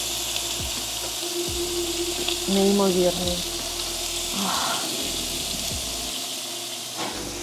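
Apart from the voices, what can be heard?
food sizzling while frying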